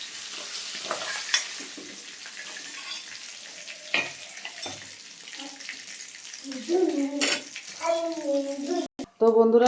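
Dried chilli and panch phoron tempering sizzle in hot oil in a pan, a soft steady crackle with scattered spits and clinks, and a voice speaks over it near the end.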